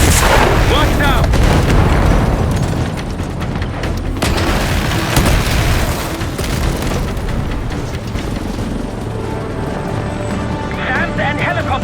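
Heavy booming missile blasts, explosions and rapid gunfire from the video game Call of Duty Black Ops 6 roll on without a break, loud and close, with shouted voices mixed into the combat din.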